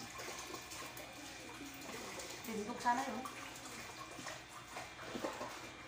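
Tap water runs and splashes while a cooking pot is washed, a steady low wash rising into brief sloshes, with someone talking quietly over it.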